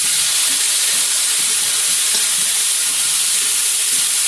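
Chopped onion, whole cumin, bay leaf and whole garam masala fry in hot oil for a duck meat curry, a loud, steady broadband sizzle with faint stirring scrapes and no talking.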